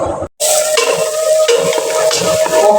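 Food sizzles and frying pops on a stove as someone stirs close by. A short gap near the start breaks it, then the sizzling stays continuous and loud throughout.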